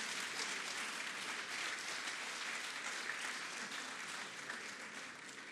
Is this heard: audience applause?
yes